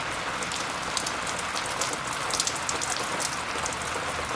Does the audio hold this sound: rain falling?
yes